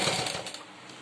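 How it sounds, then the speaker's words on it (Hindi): Sewing machine stitching piping onto a garment neckline: a brief, fast, steady whirring and rattling run of stitches, close and fairly loud. "इस तरह से हम पूरे पे सिलाई लगा लेंगे।"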